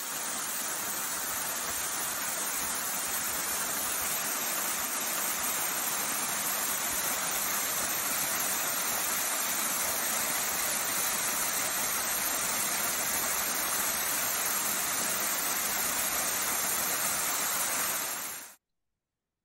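A waterfall deep in nature pours with a constant, broad rushing roar, loud and unbroken for many seconds before cutting off abruptly.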